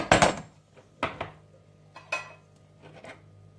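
A spoon scrapes and knocks against a pan while salt is stirred into a kebab filling, a few sharp metallic clatters spaced out over a quiet room.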